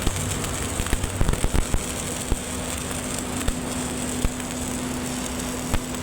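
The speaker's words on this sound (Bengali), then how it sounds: "তো আমরা দেখতেছি উস্তাদ ওয়েল্ডিং করতেছে।" A master welder arc-welds a small metal structure in a workshop, giving a steady crackling hiss broken by sharp pops and a low electrical hum throughout.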